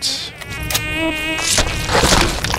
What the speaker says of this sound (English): What is this thing? Mosquito.